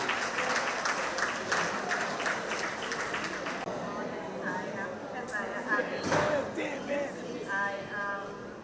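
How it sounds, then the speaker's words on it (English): Audience applause welcoming a woman onto the stage at a community centre monthly meeting, a dense clatter of clapping for the first few seconds that thins into scattered claps and murmuring voices. "Could we bring her on with a round of applause"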